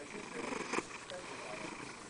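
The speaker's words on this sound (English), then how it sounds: "He's purring so hard he about like puked on himself just then." A contented cat purrs steadily and close up, a continuous low rumble with a brief louder burst partway through.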